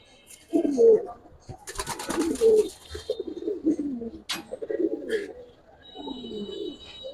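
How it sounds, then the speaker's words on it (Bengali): A pair of Giribaz pigeons coo in repeated low, throaty bursts close by, with a few brief wing flutters and faint background sounds between the calls. "কবুতর জোড়াটা কত সুন্দর"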